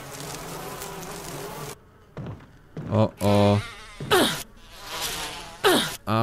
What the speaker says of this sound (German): Ach du Schreck, fiese Bienen.